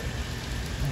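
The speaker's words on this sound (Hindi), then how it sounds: "बाहर बारिश हो रही है" Heavy rain falls steadily outdoors, a dense, constant wash of noise without pauses, heard alone.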